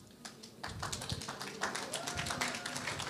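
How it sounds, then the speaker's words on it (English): An audience at a braille and low-vision seminar claps in place of a drum roll, a scattered patter of hand claps that builds into a short, moderately loud round of clapping in a room. "Well, that's a clap"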